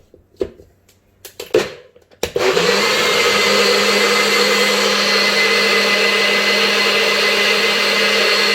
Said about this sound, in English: let's cap it up and blend.